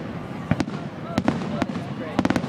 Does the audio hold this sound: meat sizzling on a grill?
no